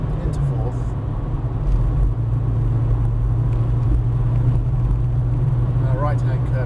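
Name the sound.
Volkswagen Golf GTI Mk2 driving, accelerating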